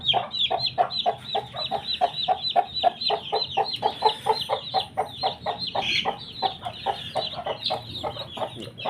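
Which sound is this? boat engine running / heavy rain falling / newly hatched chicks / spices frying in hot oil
newly hatched chicks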